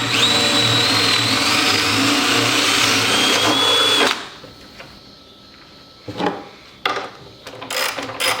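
A power drill whirs loudly and continuously for about four seconds, driving screws into the top of a wooden miter saw station, followed by quieter scattered clicks and knocks of handling in the workshop.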